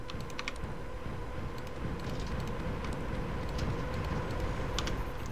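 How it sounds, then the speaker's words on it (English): Laptop keyboard keys click in quick, irregular bursts close to the microphone, over a steady low background hum. "That's the sound of my laptop, sorry. Keyboard disconnecting"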